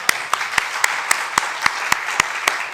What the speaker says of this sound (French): Je vous propose d'applaudir nos